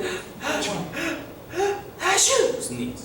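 A person imitates sneezes with a voice, a few breathy gasps building to a forceful mock sneeze, close up.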